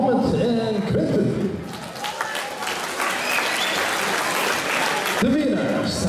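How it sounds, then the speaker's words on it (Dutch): An audience at a boxing bout gives steady applause, a dense wash of clapping and crowd noise lasting several seconds, with an announcer's amplified voice speaking over it at the start and end. "mag ik eerst een groot applaus voor Mohammed en Quentin."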